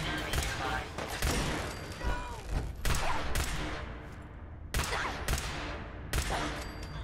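Enemy gunfire in Fallout 4 on survival difficulty, with repeated sharp loud bursts of shots and booming reports spread across the clip, alongside a voice.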